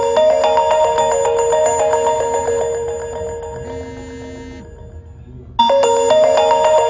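A loud mobile phone ringtone plays a bright, repeating electronic bell melody that fades down, breaks off briefly, then returns at full volume, with no voices.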